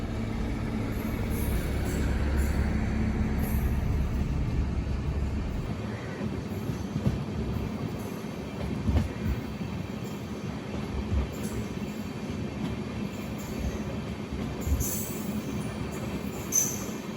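The Amrit Bharat Express rolls along the line, heard from inside a coach as a steady rumble with rhythmic wheel clatter and occasional faint squeals, fairly even and continuous throughout.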